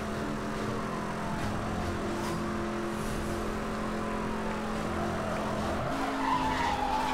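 A Jaguar racing in Need for Speed Hot Pursuit (2010), engine droning steadily while the tires skid and squeal through corners, with a rising rev toward the end.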